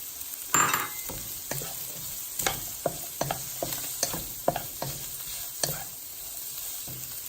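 Shrimp, eggs and peas frying together in a pan, a loud close sizzle broken by repeated stirring scrapes and clacks of a utensil against the pan.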